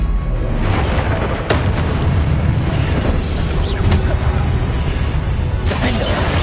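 Incendio fire spell cast in Hogwarts Legacy, heard as a loud, dense roaring burst of flame with whooshing blasts and sharp bursts layered over continuous game noise.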